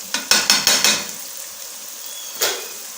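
Spices stirred into chicken matar in a pan: a quick run of four metal spoon knocks and scrapes against the pan over a steady sizzle, then a pause and one more scrape, close and without talk.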